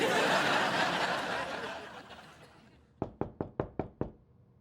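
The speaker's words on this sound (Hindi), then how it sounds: "ये देखो कौन खटखटा रहा हो।" Six sharp, evenly spaced knocks on a door ring out clearly at the end, following a fading wash of laughter and background noise in a comedy scene.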